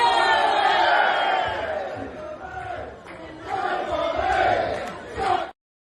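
A birthday crowd roars and cheers loudly, the voices swelling in two big waves before cutting off abruptly.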